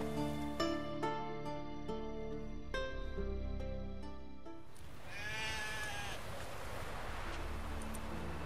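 In The Witcher 3, a sheep lets out a series of clear, close bleats over soft game ambience and faint wind, with a clipped chiming musical phrase opening the sequence.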